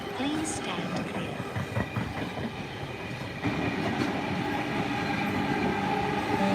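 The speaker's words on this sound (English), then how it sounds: "on platform 4, the next train does not stop" Train running through a station platform, a steady rumbling rail roar that swells partway through, with faint wheel clatter and a brief squeal; announcements and voices sound under it.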